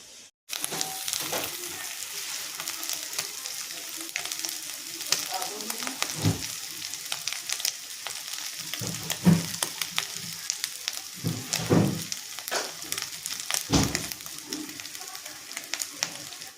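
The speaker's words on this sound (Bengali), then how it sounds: "আমার চিংড়ি মাছ ভাজা হয়ে গেছে" Prawns crackling and sizzling in hot oil, with intermittent stirring knocks and scrapes throughout.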